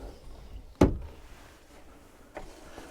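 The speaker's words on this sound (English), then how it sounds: "This slides across, so it's like a pocket door." A sliding pocket door in the bedroom of a 2016 Whittaker motorhome gives one sharp clack as it slides and stops, followed by a faint bump a moment later in a quiet interior.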